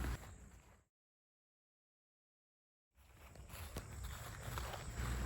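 Footsteps thud on a wooden boardwalk through a Connecticut land preserve, faint and soft; the sound cuts out to complete silence for about two seconds midway, then the footsteps resume slightly louder.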